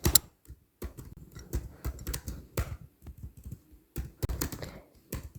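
Java code being typed on a computer keyboard: close, irregular bursts of key clicks with short pauses between runs, with no voices.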